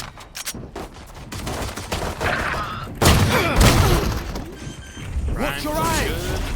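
Gunfire and ability effects from a Valorant esports match, sharp bursts of shots and impacts scattered across the clip with a loud cluster near the middle, heard under a commentator's voice and game sounds.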